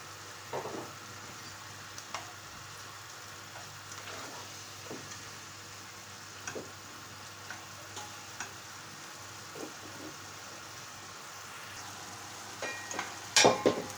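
Chicken gizzards fry quietly in a pan, a soft low sizzle broken by occasional scraping stirs and a brief louder clatter near the end.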